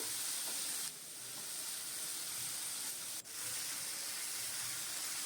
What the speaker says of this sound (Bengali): এবার ভালো করে ভাজছি আমি সবজিগুলোকে